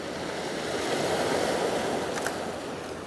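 Seawater pours down over coastal rocks in a continuous, broad rushing wash of surf, steady and fairly loud with some wind noise, no voices.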